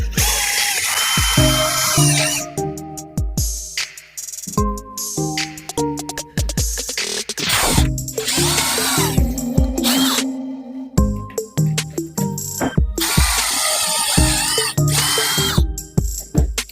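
A power drill bores pocket holes through a Kreg jig while installing window trim, loud bursts of motor whine starting and stopping repeatedly with brief gaps, close up and without talk.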